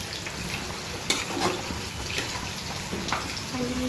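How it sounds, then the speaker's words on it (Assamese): Water is poured into a cooking pan on the stove, a constant close hissing, sizzling wash with a few faint clinks, continuing evenly for several seconds without speech. "পানীটো দিয়ে দিওঁ।"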